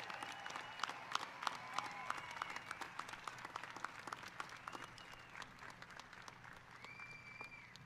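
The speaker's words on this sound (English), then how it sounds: "Please help join me in a round of applause for these incredible, outstanding" A large crowd applauds the Class of 2021 at the Victor J. Andrew High School graduation ceremony, with steady, fairly distant clapping and scattered sharper claps that hold throughout, a few faint whistles and cheers mixed in.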